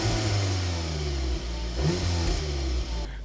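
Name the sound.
Audi S3 8V engine revving to soft limiter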